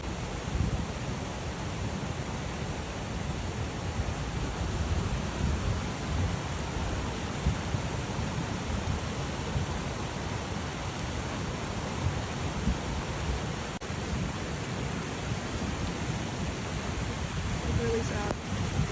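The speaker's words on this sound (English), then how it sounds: "there's no safe spot to cross this raging river" A raging river in flood rushes past in Appalachia, a steady loud broadband roar of churning water with debris carried along, continuous and close throughout, with a faint voice briefly near the end.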